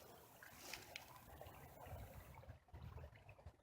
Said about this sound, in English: Here's that same creek again.